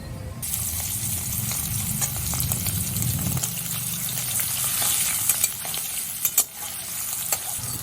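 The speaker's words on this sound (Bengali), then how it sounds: "সেই মাছগুলো এই তেলের মধ্যেই দিয়ে দেবো" Turmeric-and-salt marinated shrimp hit hot oil in a pan, bursting into a loud, steady sizzle with spattering crackle, settling into continuous frying with occasional sharp pops and scrapes near the end.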